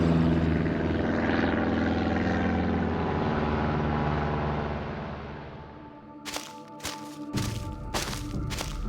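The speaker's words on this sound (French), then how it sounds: "Charles trouva un avion qui l'emmena au pôle Nord" A propeller airplane drones past as a story sound effect, its engine roar loud and steady before fading, followed by a few sharp rhythmic taps at the end.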